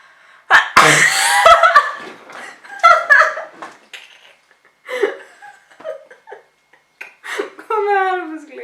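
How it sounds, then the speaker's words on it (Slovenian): A sneeze brought on by pepper, attempted with eyes open, bursts out sharply near the start, followed by Slovenian chatter and laughter up close. "kolikokrat probaš kihant z odprtimi očmi"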